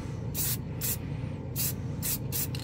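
BEHR spray paint hisses onto plastic in five short, close bursts of aerosol spray, separated by brief pauses, with no speech.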